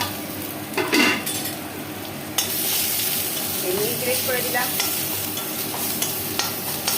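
Grated garlic and spices sizzle in a pan with scraping stirs and a few utensil clinks, while a voice speaks briefly over the frying.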